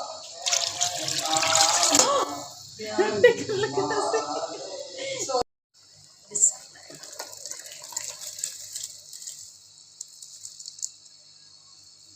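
Water pours for cooking khichdi in a home kitchen, a steady hissing trickle running throughout, with voices talking over it at first and a few knocks and clinks after they stop.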